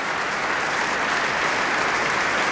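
A Prague concert audience applauds a pianist after Chopin études, sustained dense clapping filling the hall at a steady loud level throughout.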